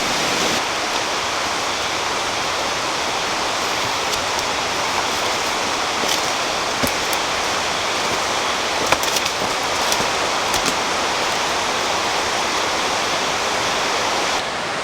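Saluopa waterfall pours steadily, a continuous broadband roar of falling water that stays close and even throughout, with faint scattered clicks and no voices.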